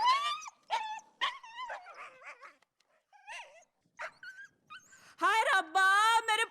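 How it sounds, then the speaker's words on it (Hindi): A dog barks and whimpers in short bursts close by, alternating with a man's scolding speech in Hindi-Bhojpuri during a drama scene, followed by a loud wailing voice. "का हुआ न जाने काहे भौंकत है।"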